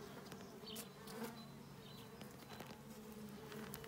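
Honeybees buzzing inside an opened horizontal beehive, a faint, steady swarm hum with brief louder passes of individual bees close by.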